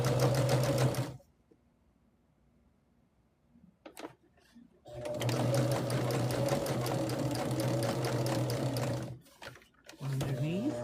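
A sewing machine stitching quilt pieces runs in long steady bursts, loud and close, separated by a quiet pause with small handling clicks while the fabric is lined up, ending with a shorter run.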